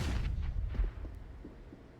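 Desert Eagle pistol shots ring out in a Counter-Strike match on the Vertigo map, a few quiet, muffled gunshot reports with short booming tails, faint and distant in the game mix.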